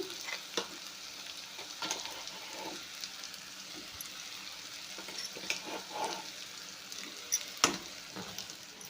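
Leftover ground masala goes into stuffed eggplant frying in oil, giving a continuous moderate sizzle with scattered crackles and a few sharper pops and stirring scrapes, no voices.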